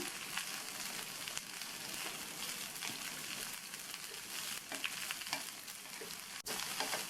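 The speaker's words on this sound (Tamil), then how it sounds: "மீடியம் ஃப்ளேமில் வச்சு ஒரு 2 நிமிஷத்துக்கு இந்த எண்ணெயிலேயே இந்த அவரைக்காயை வதக்கி விட்டுக்கணும்." Broad beans (avarakkai) stir-fried in hot oil over a medium flame, a steady close sizzle with scattered spatter crackles running throughout and no voices.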